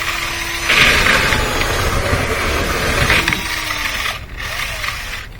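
A rotary lint eater brush spins inside a dryer vent duct, giving a steady mechanical whir and scraping rattle that holds for several seconds before easing off near the end.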